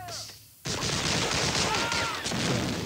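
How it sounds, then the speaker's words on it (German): A grenade blast followed by dense, continuous gunfire in a World War II shooter game, loud and close, filling the whole moment after a brief quieter lead-in. "Das war meine Granate."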